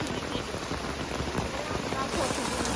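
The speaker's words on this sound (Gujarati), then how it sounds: "ઉપર ફૂલ વરસાદ છે અને અમે છત્રી લઈને ઊભા છીએ અત્યારે" Heavy rain pours on a hillside at Pavagadh, heard from under an umbrella as a dense, steady hiss of drops that stays loud and even throughout.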